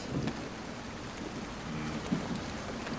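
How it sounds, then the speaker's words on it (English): A rain sound effect in a high school stage production of Our Town, a soft steady hiss of falling rain with faint low rumbling, no voices. "Rain's starting to come down."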